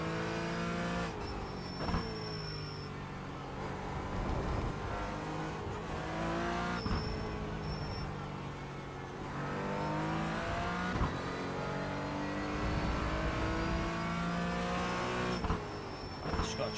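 A GT4 race car engine in the iRacing video game roars and revs continuously, rising and falling through gear changes with occasional tire squeal, loud and close throughout.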